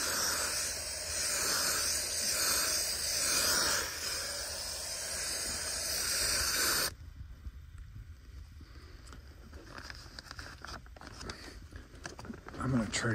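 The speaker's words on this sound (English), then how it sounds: "Now we're going to start spraying our glue." A loud, steady hiss of spray adhesive from an aerosol can runs for several seconds, then cuts off, leaving quieter rustling and handling noises during a mobile home belly paper repair.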